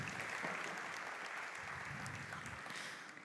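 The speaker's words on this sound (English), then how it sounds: "Let's have a round of applause for that." Applause from an audience at a startup demo day, a dense sustained patter of clapping that fades slightly at the end.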